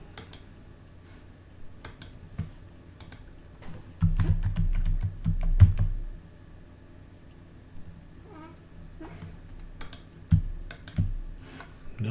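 Typing on a computer keyboard while entering a search in a coding app: soft, scattered key clicks across the stretch, with a denser, louder low burst in the middle and another near the end, no talking.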